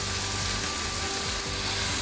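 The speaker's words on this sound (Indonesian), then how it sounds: "Tumis kurang lebih bau harum, lalu masukkan sayur." Vegetables, luffa gourd among them, sautéed in a hot pan after aromatics are fried until fragrant, giving a steady close sizzle and frying crackle with faint stirring, no voices.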